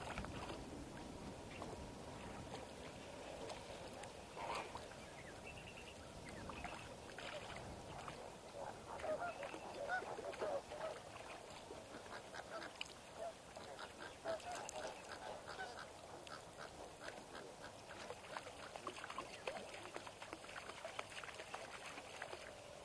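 A distant flock of flamingos at a waterhole keeps up a constant noisy, honking squawk, layered and overlapping, with a faint background hum throughout.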